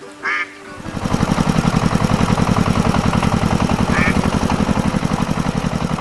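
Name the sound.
red tractor engine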